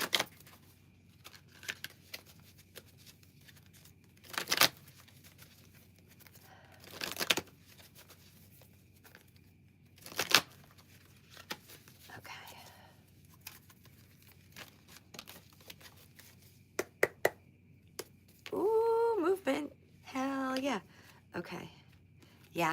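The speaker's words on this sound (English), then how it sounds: "The very first card, it jumped out before I even finished shuffling." Tarot cards are shuffled in short, crisp riffling bursts scattered across the stretch, with pauses between. A person talks intermittently near the end.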